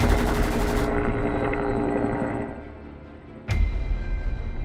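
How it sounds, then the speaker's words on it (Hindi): Dense, continuous roar of helicopter rotors and rapid gunfire, loud and close, with a sharp burst near the end. "हेलीकॉप्टर से इतनी फायरिंग हो रही थी"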